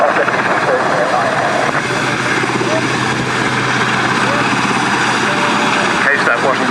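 An RAF Sea King helicopter, airframe XZ587, roars loud and close at the Cosford air show, its rotor and turbine drone steady throughout, with crowd noise mixed in.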